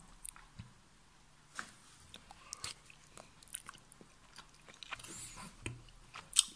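Someone chews flour balls with a kimchi flavour from a Korean self-heating military ration, quiet close-up bites and moist crunchy mastication in irregular bursts against near silence, with no talking.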